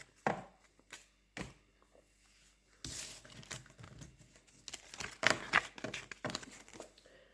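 Playing cards shuffled by hand in short, separate bursts of riffling and flicking, close and fairly quiet, with pauses between them and a denser flurry near the end.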